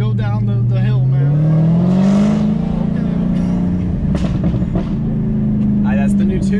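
A tuned Hellcat's engine revs hard, its deep exhaust note climbing and holding at high rpm, with a few sharp crackles and pops near the end, all loud and close.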